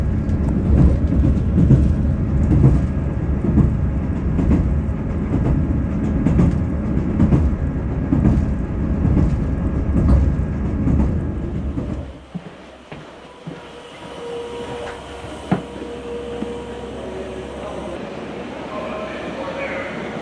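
A Scotrail train near Dingwall on the Inverness to Kyle of Lochalsh line, heard from inside as a loud steady rumble with rhythmic wheel clatter that later eases into a quieter hum with a few faint squeals.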